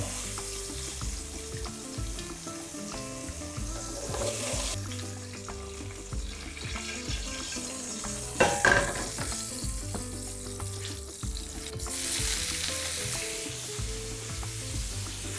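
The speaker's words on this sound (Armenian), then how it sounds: "տապակում ենք սմբուկը։" Eggplant sizzles and fries in a pan, a steady crackling hiss that carries on throughout, with a brief clatter of utensil against the pan near the middle.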